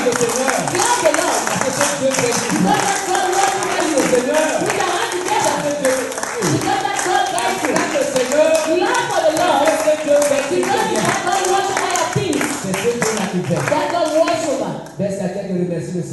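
A church congregation clapping for the Lord during a French sermon: dense, continuous hand claps mixed with many voices and shouting, loud and sustained throughout before dropping briefly near the end.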